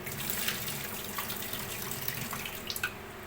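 Water pours and splashes over soaked chickpeas being washed, a close steady rush with a few sharper drips and sloshes near the end.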